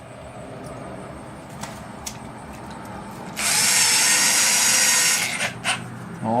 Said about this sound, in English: we'll pre-drill those holes